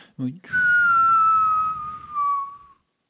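A voice imitates a whistling firework rocket, a single long descending whistle after a short vocal sound, close and clear.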